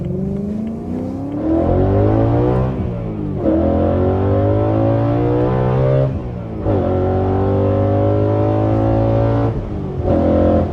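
A loud, close BMW E92 M3 exhaust revs hard in repeated pulls, the engine note climbing sharply and dropping back between each rev.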